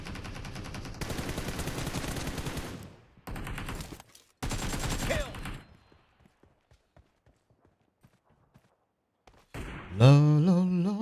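Dense bursts of rapid automatic gunfire from the PUBG Mobile video game, then a quiet gap with scattered faint clicks or distant single shots, ending with louder game sounds and a voice.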